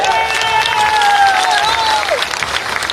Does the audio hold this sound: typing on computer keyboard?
no